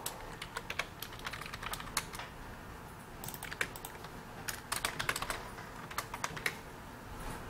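Rapid, irregular keystrokes on a computer keyboard, tapped in short bursts with brief pauses, close and fairly quiet, with no speech.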